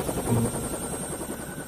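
A search and rescue helicopter drones steadily with a low rotor throb and a faint high whine, heard alone at moderate distance.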